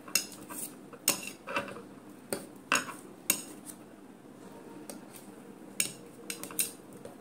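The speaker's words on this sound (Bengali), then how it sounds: "পনির এটা কাটছি।" A knife cuts paneer into small pieces on a board, producing a series of sharp, irregular taps and clicks with short quiet gaps between them, close and fairly soft.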